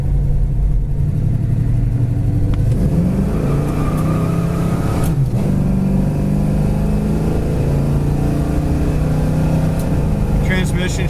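A 1969 Chevy Chevelle SS V8 idles close by with a steady, deep rumble that stays loud and even throughout, while someone talks over it.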